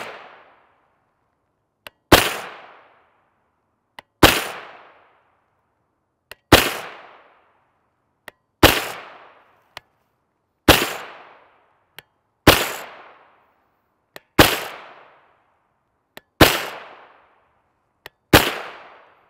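Nine sharp gunshots firing Geco 9x19mm 115 grain full metal jacket ammunition, evenly spaced about two seconds apart, each a loud crack with a short decaying tail, no talk.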